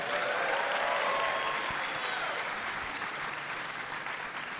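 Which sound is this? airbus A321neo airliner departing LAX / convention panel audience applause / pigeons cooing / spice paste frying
convention panel audience applause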